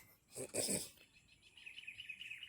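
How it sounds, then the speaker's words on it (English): A pied triller's call repeats in a rapid, trilling series of high notes after a brief louder burst, moderately close against quiet background hiss, in a residential holiday estate in Malaysia. "I think that could be the sound of a pied triller."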